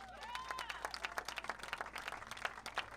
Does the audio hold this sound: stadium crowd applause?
yes